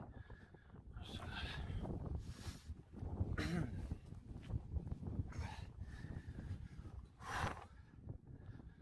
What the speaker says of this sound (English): You probably can't hear a word I'm saying with the fucking wind.